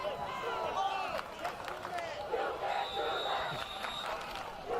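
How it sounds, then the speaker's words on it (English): A football crowd at a Woburn versus Burlington high school game chants and shouts in a sustained, rolling swell of many voices. The chant carries at a moderate distance, and a commentator's voice also sounds at times. "As the crowd serenades"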